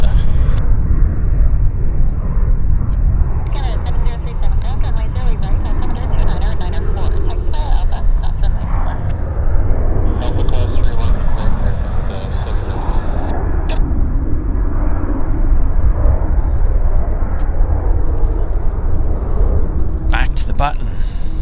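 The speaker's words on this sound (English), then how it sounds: "And here's our aircraft on approach." A fixed-wing airliner on approach to Vancouver YVR's south runway roars loudly and steadily throughout, a continuous broad engine rumble with a voice talking over it.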